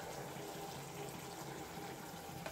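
Water poured into a pan of spiced potol curry, a steady broadband rush of running liquid lasting the whole moment, close and even with no talk over it.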